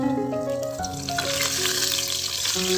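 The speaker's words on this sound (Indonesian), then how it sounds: "untuk bakso ikannya bisa langsung dimasukkan ke dalam penggorengan ya" Fish balls frying in hot oil in a pan, a continuous close bubbling sizzle that holds steady throughout with a faint underlying tonal hum.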